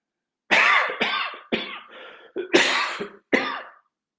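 Six sharp, close coughs during a yoga breathing exercise, in an uneven series, each a short burst with brief pauses between them.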